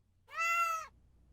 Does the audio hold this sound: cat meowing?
yes